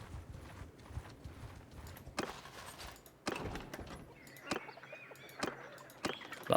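Horses galloping in the medieval battle game Mount & Blade II Bannerlord, giving bursts of hoof thuds and clatter over faint battlefield noise, with sharp louder impacts breaking in at intervals.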